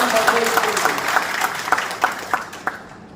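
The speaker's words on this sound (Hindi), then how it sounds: "एक बार मोदी जी को ताली बजा के धन्यवाद करें।" Audience clapping at a carpet expo speech in Bhadohi, a scattered burst of hand claps that thins into a few isolated claps before fading.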